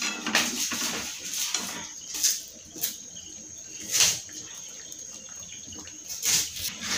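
Chana masala scooped from a cooking pot onto a plate, a few soft clinks and scrapes of a spoon spaced apart over a quiet, hissy kitchen background.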